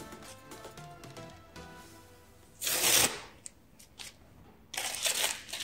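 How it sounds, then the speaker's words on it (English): Masking tape peeled off fabric in two bursts, a loud ripping tear midway and another longer strip pulled near the end, with small crinkles and taps between, close and without talk. "And just remove the masking tape."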